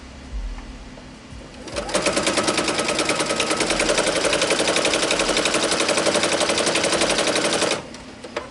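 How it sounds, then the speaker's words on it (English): Sewing machine needle thunking through layers of quilt fabric and batting, a loud rapid, evenly pulsed run of about six seconds that starts and stops abruptly, close by with no talk over it. "You hear all that big thunking going on? That's that needle going through all those layers of fabric and batting"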